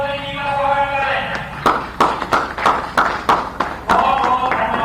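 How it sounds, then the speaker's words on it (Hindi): A stadium crowd gathered for the opening of a national wrestling championship claps to welcome the Chief Minister: a sparse string of about eight sharp claps over a couple of seconds, with a voice talking underneath. "एक बार जोरदार तालियों के साथ माननीय मुख्यमंत्री जी का स्वागत करें"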